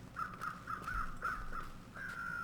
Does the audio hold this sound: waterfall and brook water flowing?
no